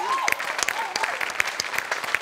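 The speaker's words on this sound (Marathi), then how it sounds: "अभिजित पवारसाठी जोरदार टाळ्या" Studio audience at a Marathi comedy show applauding a performer, a lively burst of clapping with sharp individual claps standing out, and a voice briefly audible at the start.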